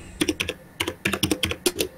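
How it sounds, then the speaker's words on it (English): Rapid, clattering keystrokes on a computer keyboard, loud and close, in quick bursts with short pauses between clusters. "That typing is loud."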